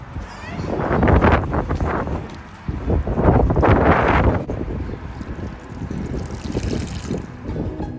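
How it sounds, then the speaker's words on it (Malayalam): Strong outdoor wind buffets the microphone in loud, surging gusts during an evening at home, with a person talking over parts of it. "നല്ല കാറ്റുണ്ട്"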